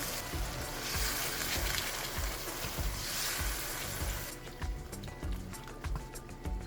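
Mushroom broth poured into a hot pan of tofu with dark soy sauce, a steady loud sizzle and frying crackle with rhythmic stirring knocks, easing toward the end.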